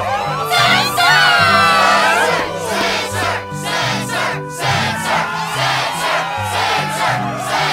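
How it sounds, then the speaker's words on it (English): Video game crowd in Kingdom Hearts II cheering and shouting loudly at a struggle tournament. The roar is continuous and dense, with excited whoops over a steady musical backing. "Yes, the crowd is fired up,"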